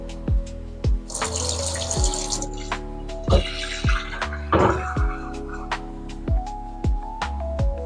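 Tap water runs into a kettle in a home kitchen, a steady rushing splash that fills the middle of the clip between sharp clunks and knocks, with no talking.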